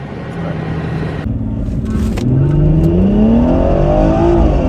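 A BMW with a B58 engine and aftermarket downpipe accelerating hard in a 0-60 run, engine note climbing steadily in pitch as it pulls through the gears, loud and close, with a short shift break before the final rising stretch.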